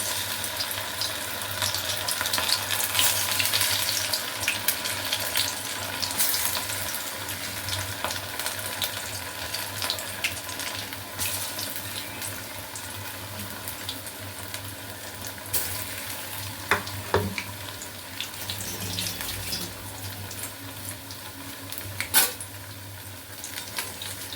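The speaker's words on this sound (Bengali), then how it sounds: "এবার আমি এটাকে ভেজে নেব তেল গরম হয়ে গেছে একটা একটা করে তেলের মতো ভেজে নেব" Fritters of an unknown flower deep-fry one by one in hot oil, a steady close sizzle and bubbling that lasts throughout, with occasional clinks of a utensil against the pan.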